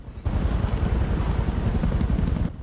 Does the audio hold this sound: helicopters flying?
yes